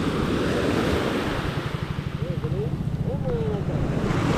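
Ocean surf washing onto a beach after an overnight swell, a steady broadband rush with rolling low surges and wind buffeting the microphone, while a faint voice murmurs briefly in the background.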